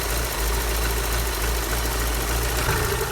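A BMW E36 1.6i with the M40B16 four-cylinder engine idles steadily just after starting, a loud, even, close mechanical drone with slight knocking texture and no voices.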